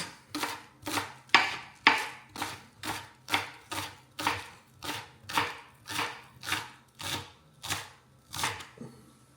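A knife roughly chopping green onions on a cutting board for Asian pork noodles, about sixteen crisp, evenly spaced strokes, close and clear with no talking.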